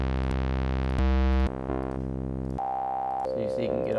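A Heisenberg synthesizer plays a sustained, buzzy wave tone that jumps through several pitches and timbres in sequence, loud and continuous, ending in a warbling, shifting texture.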